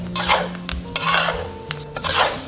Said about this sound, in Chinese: 继续翻炒，一定不要心急哦